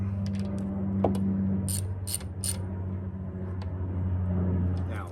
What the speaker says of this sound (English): And then we're gonna just tighten that back.